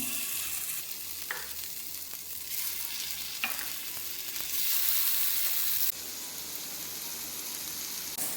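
Chicken pieces fry in a spoonful of oil in a pan, giving a loud, continuous close sizzle broken by a few stirring scrapes.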